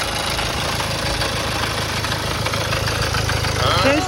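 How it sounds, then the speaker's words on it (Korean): A Jaguar XF 20d with an Ingenium diesel engine and a suspected stretched timing chain runs at idle, a loud, close, continuous mechanical clatter and rattle, with people talking faintly underneath. "체인 소리인데? 이게 리콜 아니야?"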